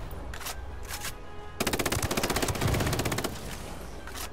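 Automatic gunfire in the Predator video game, a couple of short bursts followed by a longer sustained rapid-fire stream of loud, tightly spaced shots, with no talking.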